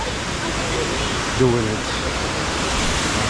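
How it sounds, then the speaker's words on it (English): The waterfall at Snuff Mills in England gives a steady, close rushing roar of falling water, with a person speaking briefly over it. "Look at that beautiful waterfall here"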